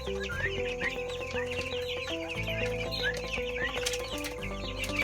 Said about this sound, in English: Turkeys and meat birds are in here.